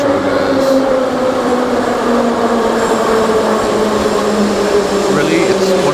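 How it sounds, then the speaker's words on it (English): A metro train in Ukraine rumbles steadily with a continuous droning hum and tonal whine throughout, loud and close as if riding inside a carriage. "I do love this metro, guys."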